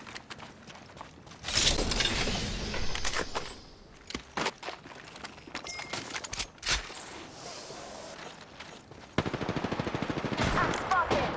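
Gunfire in Apex Legends comes in bursts of rapid automatic shots, loud and close, broken by pauses with mechanical clicks and lighter sounds, before a final sustained volley of fire.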